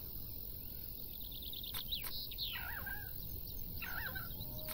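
Chickens clucking in the farming game Farm Manager 2018, a few short, quiet clucks and chirps scattered over soft ambient background.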